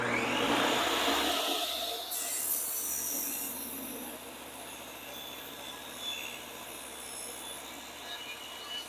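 A portable table saw cuts wood, opening with a loud, high blade whine that drops after a couple of seconds into a quieter, steady rushing hum as the saw runs on.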